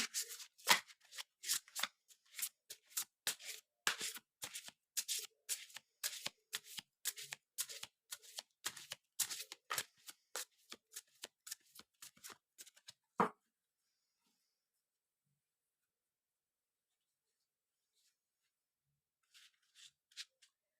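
Oracle deck of goddess cards being shuffled by hand: a long run of quick, crisp riffling flicks for about thirteen seconds, close and clear, then near silence with a few faint card rustles at the end.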